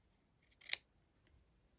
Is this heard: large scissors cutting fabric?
yes